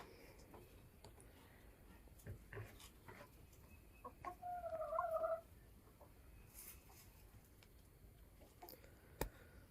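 On a farm in spring, a single chicken gives a short, distinct burst of clucking around the middle, faint against a quiet outdoor background scattered with small knocks and rustles.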